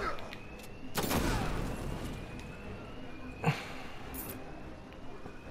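Gunfire in the Batman: Arkham Knight video game during a Red Hood predator-mode sequence. A few sharp shots pop over a steady ambient game hum, with a voice faintly present.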